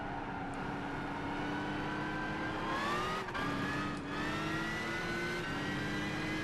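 A Gran Turismo 5 supercar engine revs hard toward its redline in the video game, a sustained loud rising whine with brief dips around shifts before climbing again, alone without talk.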